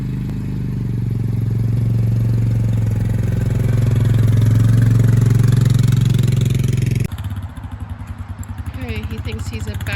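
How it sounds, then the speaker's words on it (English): A Split-Fire 4090 horizontal wood chipper runs loud and steady for about seven seconds with a heavy engine drone and clattering, then drops to a lighter, choppier idle. "You'll just get to watch several minutes of the chipper in action."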